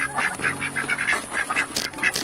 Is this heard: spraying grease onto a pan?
no